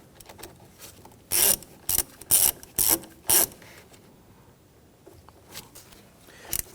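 A ratchet snugs down the securing nut on a battery terminal of a 2011-2015 Kia Sorento in five quick, close, raspy clicking bursts, followed by softer faint handling noises.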